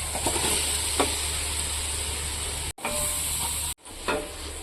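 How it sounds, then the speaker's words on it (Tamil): About 200 grams of long-sliced big onions fry in a pan for chicken biryani, a steady close hiss of sizzling oil with a few stirring scrapes, briefly cut out twice. "இப்போ இந்த வெங்காயத்தையும் அதை போட்டுக்கலாம்"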